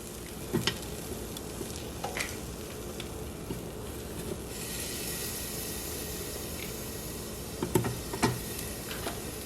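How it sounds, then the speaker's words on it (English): Chicken wings sizzle in an air fryer, a steady, crackling sizzle filling the clip, with occasional scraping clicks and a brief louder hiss midway, no talking. "we're gonna add our chicken in there, and you wanna lay it flat. You hear it sizzling?"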